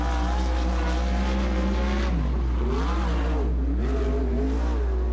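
A Western Sprint Tour sprint car runs a fast lap at Sunset Speedway Park, its engine loud and continuous, rising and falling in pitch as it revs through the turns.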